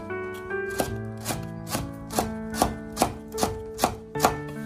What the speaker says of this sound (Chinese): 小米椒我们把它切成小圈